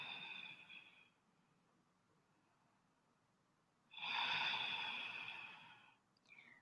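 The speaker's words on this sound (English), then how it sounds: "Just noticing the breath that comes in" Slow, deep breathing during yoga meditation: one long, airy exhale fades after about a second, followed by a quiet pause. A second strong breath runs for about two seconds, close and clear with no talking.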